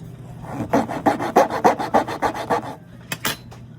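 Close rhythmic rasping strokes, about a dozen quick back-and-forth rubs of sandpaper on a silver spoon, then a pause and two short final scrapes.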